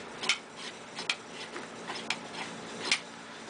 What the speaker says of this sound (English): make sure that the bolt will travel in the carrier.